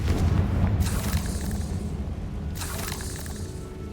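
Blasting spell explosions from Confringo in the video game Hogwarts Legacy, two bright bursts about a second and a half apart over a constant rumbling, crackling background.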